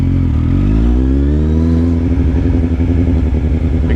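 A Kawasaki Z1000 motorcycle engine, 949 cc, revs up loud and close, its pitch climbing steadily before settling into a rough, throbbing drone under acceleration.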